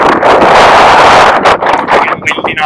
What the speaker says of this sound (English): It's getting windy now though.